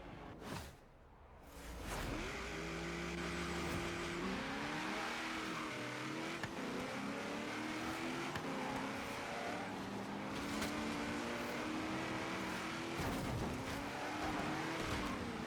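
In Forza Horizon 3, a race car engine with a high-rev setup screams continuously through gear changes, with tire squeal and quick whooshes along the way, heard alone at fairly low level.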